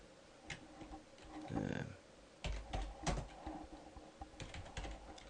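A few scattered computer keyboard keystrokes tap out a page name, soft and close, with a brief rustle between them in a quiet room.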